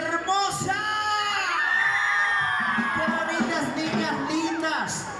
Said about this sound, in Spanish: más fuerte que se escuche el grito de todas las hermosas